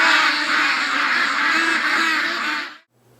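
A flock of ducks quacks in a dense, continuous chorus close by. The calls overlap for almost three seconds, then cut off abruptly into near silence.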